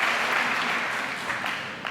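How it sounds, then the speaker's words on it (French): A church congregation at a Catholic healing service in Bergerac, France, fills the hall with sustained applause, steady and moderately loud, easing off slightly toward the end. "And give an applause together."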